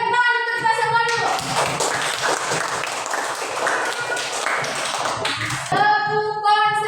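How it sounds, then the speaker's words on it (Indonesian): Children in a classroom applaud together, a dense burst of clapping lasting several seconds, with young voices talking briefly at the start and end. "Berikan tepuk tangan untuk kita semua dulu."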